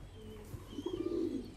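Pigeons or doves cooing at a bird farm, a single soft low coo rolling out over steady background hum, fairly faint and close by.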